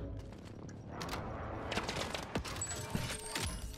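Scattered gunfire crackles through a Call of Duty: Modern Warfare match, sharp shots popping over a steady background din, fairly distant and moderate in level.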